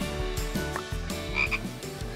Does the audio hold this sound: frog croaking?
yes